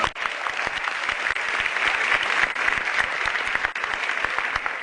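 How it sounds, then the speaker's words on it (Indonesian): Studio audience at a televised stand-up comedy show applauds steadily, a dense wash of clapping with individual claps audible, moderately loud and continuous throughout. "Tepuk tangan dulu dong."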